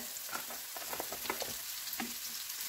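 Pak choy stir-fried in a pan with sugar and chicken stock, sizzling and crackling steadily with scattered sharp pops and bursts as a little water is added, close and continuous without talk.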